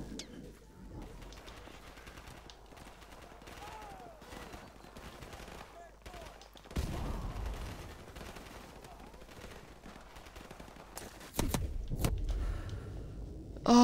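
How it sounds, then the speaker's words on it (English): Gunfire in Call of Duty 4: Modern Warfare Remastered on Xbox, scattered shots and bursts in a campaign firefight, with louder blasts near the middle and end over ambient battle noise and bird-like game sounds. "Who the fuck's shooting me?"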